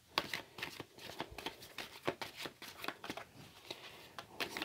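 Angel cards shuffled repeatedly in the hands, giving a steady run of quick, crisp papery riffles and flicks that sound close and fairly quiet, with no talking.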